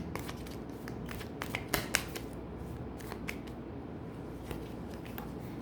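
Tarot cards are shuffled by hand at close range, with soft papery riffles and several crisp snaps of cards, fairly quiet.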